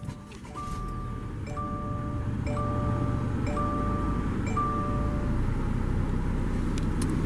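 A 2021 Subaru Outback Limited XT with the 2.4 L turbo engine starts by push button and settles into a low, steady idle while a cabin chime dings in a regular repeating pattern over the hum.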